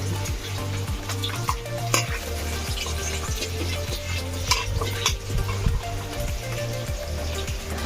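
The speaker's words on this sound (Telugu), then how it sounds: "బియ్యం అన్నీ వేసుకున్నాక ఒకసారి కలుపుకోవాలి." Rice is stirred in a pot of boiling water for egg biryani, producing a rhythmic scraping and swishing repeated roughly twice a second over a steady bubbling, hissing background, close by and without talk.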